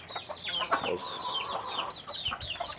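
Pet chickens, a hen among them, cluck and chatter close by during feeding, busy overlapping calls with one sustained squawk, while a voice briefly speaks.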